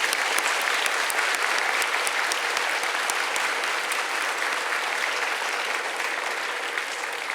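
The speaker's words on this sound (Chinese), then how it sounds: "今天，我要借用各位的双手，再一次给我们所有辛苦的医护人员最大的掌声。" A large audience at a national day celebration claps for medical workers, producing a dense, even roar of applause with sharp individual claps standing out, sustained at steady volume throughout.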